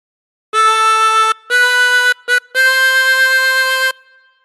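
A tremolo harmonica plays a phrase of All Through the Night: four sustained, wavering reedy notes, the third very short, loud and close with no talking.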